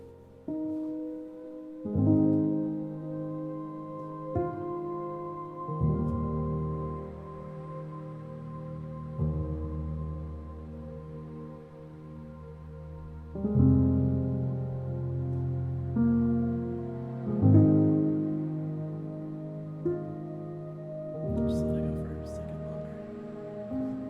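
Slow lofi beat with a stretched synth, dark piano chords and a chopped flute texture, soft looping phrases that swell and fade in a relaxed pulse, quiet with no voices.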